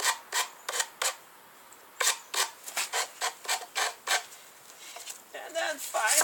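A wooden bow with pin nocks rubbed with 120 grit sandpaper: short, quick rasping strokes in an uneven rhythm, close and distinct, with a few pauses and no talk.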